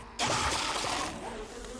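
A dense, steady buzz of a bee swarm spat by enemies in the game 7 Days To Die starts abruptly and fills the clip, loud and close, with no voices.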